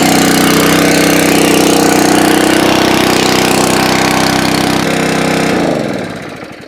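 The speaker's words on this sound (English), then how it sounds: "the next thing to do is to start said pump" A small engine-driven water pump runs at an off-grid well, a loud, steady mechanical drone holding for several seconds before it is cut off and rapidly winds down to near silence.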